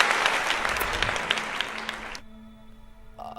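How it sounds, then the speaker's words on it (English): Crowd applause that is dense and loud for about two seconds, then cuts off abruptly into a sustained tone, like an inserted sound effect welcoming a guest onto a show. "Let's give him a round of applause"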